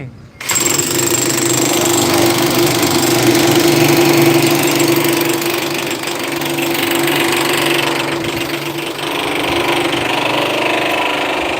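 A double-engine concrete mixer truck runs loud and near, its heavy engine holding a steady, rattling, knocking drone with a faint hum throughout.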